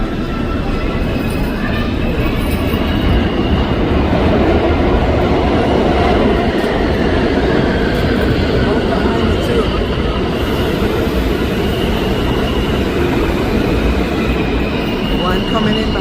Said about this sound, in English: That's the M train over there.